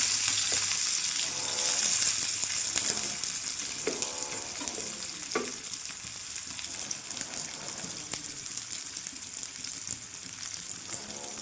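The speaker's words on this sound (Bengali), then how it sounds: "পেঁয়াজটা আমি ভেজে নেবো অল্প" Onions sizzle in hot oil in a kadai as shrimp and ridge gourd ghonto is made, with steady close frying crackle and a few stirring scrapes.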